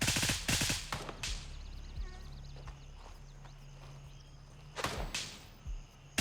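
Gunfire in the video game Gray Zone Warfare comes as sharp, rapid bursts at the start and again near the end, over a low, steady ambient rumble.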